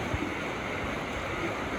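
Water crashes and rushes steadily and close by on the Gangplank Falls raft ride at Typhoon Lagoon, Walt Disney World, a brief, even wash of splashing.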